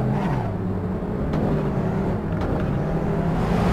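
Car engine from the racing simulator Assetto Corsa played in VR, a steady droning note that rises and falls slightly as the car drives, loud and continuous with no talk.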